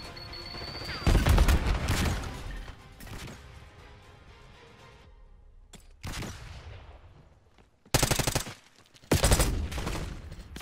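C9 submachine gun fire in Black Ops 6, heard as several loud, sharp automatic bursts separated by quieter stretches. The final two bursts come close together.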